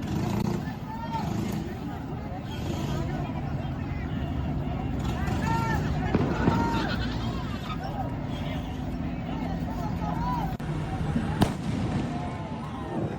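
Explosions at a chaotic street protest in Los Angeles, with scattered sharp bangs and pops over a steady crowd hubbub and nearby talking.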